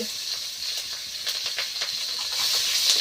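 Steady, close hiss and sizzle of chopped garlic and green chilies frying in hot oil, a continuous crackling spatter that swells slightly toward the end, with no voices.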